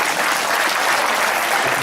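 Audience at a live card magic show claps in a dense, even burst of applause, loud and close, with no voices rising above it.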